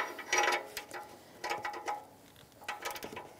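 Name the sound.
socket ratchet tightening a Toyota RAV4 oxygen sensor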